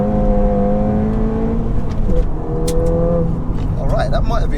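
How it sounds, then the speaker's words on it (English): Stage 1 Ford Fiesta ST launching hard in sport mode with loads of wheel spin, engine note climbing loudly and steadily with a shift dip midway, close and continuous under some talk. "Right, guys, sport mode. Let's just do it. Loads of wheel spin."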